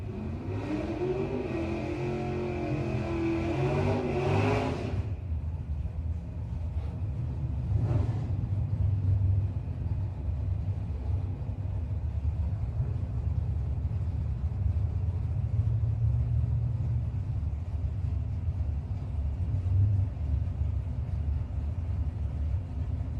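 A 1966 Chevy II drag car revs hard and roars at a drag-strip shootout, a loud rising engine burst for about five seconds that then drops to a steady distant rumble.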